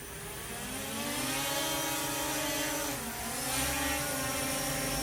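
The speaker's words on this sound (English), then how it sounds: "So now the drone is flying." A Dynalog DG600C drone flies indoors, its propellers making a steady close buzzing whine that dips briefly and then rises again.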